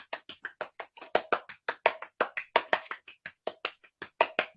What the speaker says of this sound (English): Let's give her our SWS round of applause